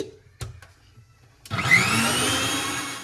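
A kitchen mixer grinder crushes chutney for bhungla bataka: a couple of light knocks, then the motor starts and whirs in a loud, steady, close drone to the end, with no speech.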